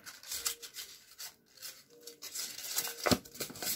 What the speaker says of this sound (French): les papiers vraiment très durs comme ça, vous les froissez